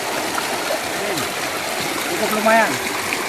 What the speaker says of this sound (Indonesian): Ini langsung dari sumber mata airnya.